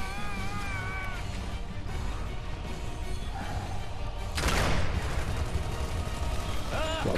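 Gunfire from the video game Gears of War 2 rattles as a steady, dense barrage throughout, swelling into a louder burst of blasts partway through, with game effects and faint background sounds mixed in.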